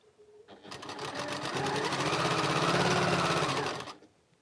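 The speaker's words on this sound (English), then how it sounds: "now I'm sewing this onto here" A sewing machine runs in a steady rapid burst of stitching as quilt block pieces are joined, starting up after a brief pause and running loud and continuous for about three seconds before stopping.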